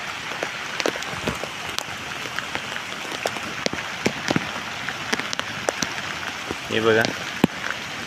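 Heavy rain pours at Kalvi Bandar beach in Vengurla on the Konkan coast, a dense steady patter with sharp nearby drops striking surfaces, while someone speaks briefly over it.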